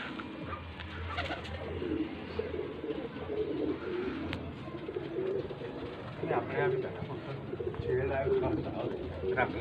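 Pigeons coo repeatedly around a Faisalabad pigeon loft, low rolling calls rising and falling beneath someone talking nearly throughout, with faint chirps and rustling in the background.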